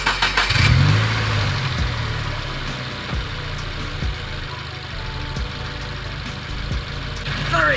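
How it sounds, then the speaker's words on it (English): A Subaru WRX 15+ with an exhaust leak cranks and fires up with a loud burst, then settles into a rough, loud idle with periodic ticking pulses, heard up close. "it's going to be hard to hear me because it's really loud, but now that the car is on"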